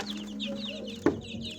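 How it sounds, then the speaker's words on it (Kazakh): Hens at a poultry farm with newly bought light Brahma chicks cluck softly and steadily, a louder bump near the end cutting through the low farmyard hum. "Мынау тауық."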